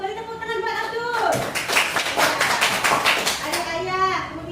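Children in a classroom clap together for a classmate, a burst of quick, close claps lasting a couple of seconds, framed by a teacher's voice speaking before and after.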